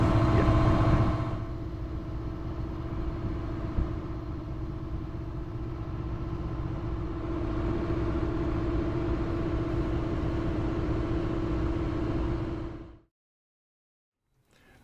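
A sailboat's inboard engine motors along below 2,000 revs at about 4 knots in a canal, giving a steady mid-pitched drone with a constant tonal hum that cuts off abruptly near the end.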